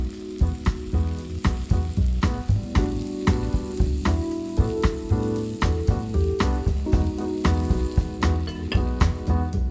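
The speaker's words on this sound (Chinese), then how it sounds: "调小火，放入酸奶饼，一面烙1到2分钟。" Yogurt flatbread pan-fries in oil over low heat, producing a loud, steady crackling sizzle throughout with frequent sharp pops and faint background music, and nobody speaks.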